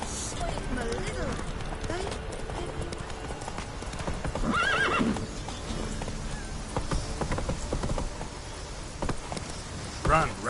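Roach, a horse in The Witcher 3, gallops with steady clip-clop hoofbeats and a neigh, under in-game speech and background game sounds.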